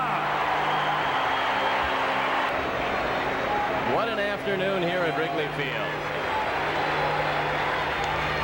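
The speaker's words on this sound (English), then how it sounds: "Listen to the crowd." A steady roar of a baseball crowd at Wrigley Field fills the background on a game afternoon, cheering continuously beneath a play-by-play announcer's speech.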